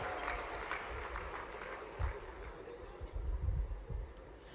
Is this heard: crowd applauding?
yes